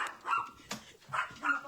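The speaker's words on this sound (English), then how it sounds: "Hear the dog. The dog is distressed." A distressed dog barks and whimpers in a home, with several short, sharp yelps spaced across the moment, fairly close and moderately loud, and no talk over them.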